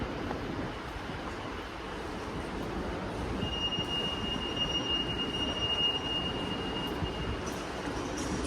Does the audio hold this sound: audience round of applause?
no